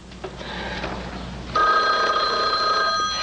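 An old-style telephone bell rings loudly in a 1983 film scene, a continuous metallic trill that grows fuller midway through, with no voices over it.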